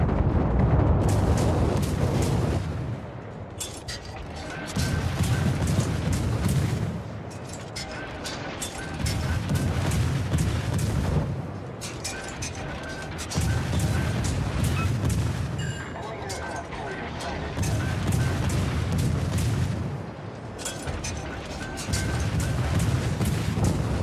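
A gunboat fires on a target with heavy, booming salvos and explosions that come in repeated loud bursts about every four to five seconds, with rumbling lulls between them.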